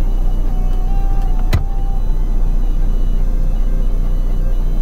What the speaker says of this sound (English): If you hear that rumbling, it's just my truck running.